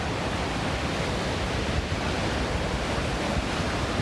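Continuous loud rushing water, a dense broadband roar with no breaks, like a fast stream surging close by on the Pacific Crest Trail.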